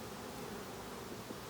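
A swarm of honey bees hums on about six hive frames, a faint, steady buzzing drone with no voices.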